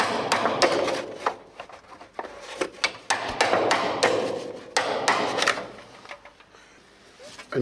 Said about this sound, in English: So use the hammer and something thin like screwdriver to push it after putting penetrating oil